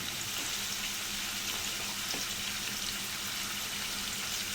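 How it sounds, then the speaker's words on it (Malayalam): Shallots, onion, garlic and green chillies sautéing in a pan with oil, a steady close crackling sizzle throughout with no talking, for a Malayalam mango tomato chutney. "പച്ചമുളക് ഇതെല്ലാം കൂടിയിട്ട് വഴറ്റിയെടുക്കണം."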